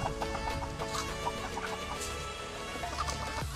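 Native chickens clucking nearby in a steady, overlapping chatter over a constant background hum, with no one speaking.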